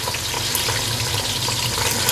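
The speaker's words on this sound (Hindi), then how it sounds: "अब हम इसमें चाशनी डाल देंगे जो मैंने बनाई थी।" Sugar syrup going into a hot frying pan with coconut and raisins for sweet jaggery rice, a dense, even hiss and sizzle that holds steadily, with no talking.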